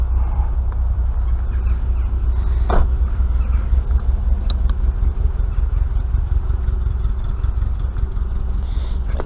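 An Austin Maxi's engine idles steadily and close by to charge its battery, a constant low rumble with faint clatter and no talk.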